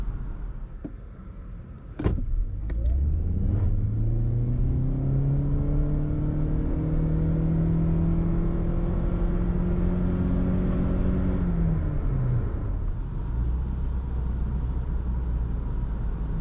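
A 2023 Toyota Corolla Cross 2.0 hybrid FWD accelerates from standstill to 100 km/h on a wet road, an electric whine and engine drone climbing steadily in pitch for about ten seconds after a brief clunk, then easing off.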